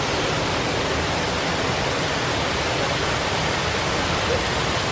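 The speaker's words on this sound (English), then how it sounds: "That's the waterfalls." A waterfall in Brazil pours with a constant, dense hiss of falling water, close and even throughout, with no voices.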